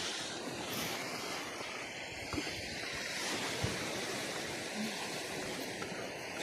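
Steady roar of sea waves washing in on the coast of Oman, broad and continuous with a breezy rush over it, no voices.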